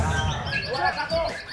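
A songbird at a bird singing contest gives a quick run of bright chirps and tweets, close and fairly loud, with crowd noise around it.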